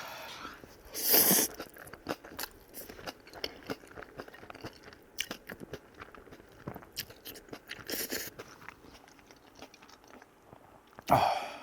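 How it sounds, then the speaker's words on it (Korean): Someone chews mashed takoyaki, with close, crunchy bites and wet mouth noises repeating through the clip, plus a few louder sharp crunches and scrapes and no talking. "타코야끼를 으깨서 같이 먹으라고?"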